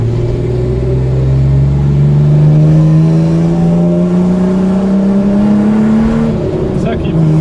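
A Ford Sierra XR4i V6 rally car engine revs loudly from inside the cabin while driving, its note climbing steadily in pitch as it accelerates, with people talking over the engine.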